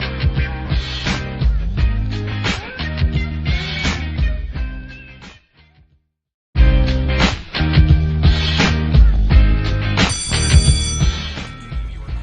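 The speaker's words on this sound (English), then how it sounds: "That is the sound of the bell" A ringing bell-like electronic chime, a school bell, plays in bursts, stops for about a second, then resumes louder with layered tones and bright overtones.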